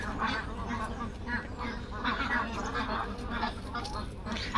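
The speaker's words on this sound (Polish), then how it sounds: "Jak to kaczka." Ducks quack repeatedly and busily nearby, a dense chattering flock sound that runs throughout, with people talking underneath.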